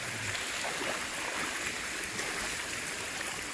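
Flood water near the Black Sea coast at Tuapse runs knee-deep through a flooded area, a steady broadband rushing and sloshing that holds constant throughout, close and fairly loud.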